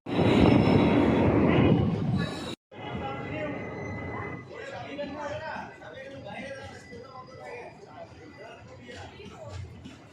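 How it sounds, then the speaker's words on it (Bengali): A train rumbles loudly through a station, then cuts out abruptly and is followed by quieter platform noise with voices and distant rail sounds. "ট্রেন তো অনর্গল যেতেই থাকবে এদিক আর ওদিক সব দিকেই যাচ্ছে ট্রেন"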